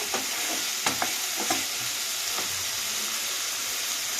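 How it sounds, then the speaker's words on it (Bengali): Green beans and shrimp frying in oil, a steady crackling sizzle with a few knocks of a spatula stirring the pan near at hand. "এটাকে একটু ভাজা ভাজা করে নেবো"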